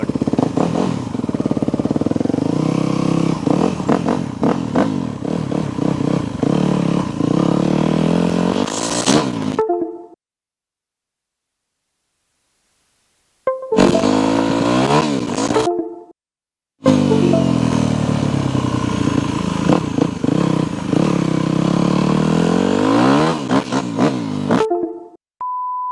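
A 2008 Yamaha WR250F dirt bike with an FMF exhaust rips around a yard. The loud, raspy single-cylinder engine revs and surges, broken by short gaps of silence before it roars back.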